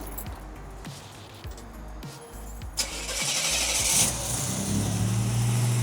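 A 1987 Buick Grand National turbo cranks and fires up nearby, with clicks and starter whirr before the engine catches and settles into a loud, rumbling idle as the car is about to be moved.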